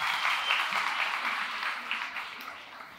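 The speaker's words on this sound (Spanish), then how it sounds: "Muy bien, fuerte el aplauso a Sharon." Steady audience applause on a live Colombian comedy talk show, a dense wash of clapping that stays loud for the whole stretch and fades slightly toward the end, with no talk over it.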